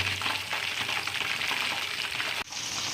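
Curry leaves dropped into hot oil alongside pieces of Kerala-style home-made crispy chicken fry, a dense steady crackling sizzle close by with a sharp disturbance near the end, no talk.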